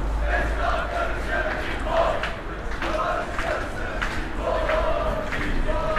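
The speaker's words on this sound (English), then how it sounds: "Cheering on the soccer team." A crowd in Kadikoy, Istanbul cheers on a soccer team with rhythmic chanting, repeated bursts of massed voices rising and falling in a steady pattern, heard from a moderate distance over low rumbling background noise.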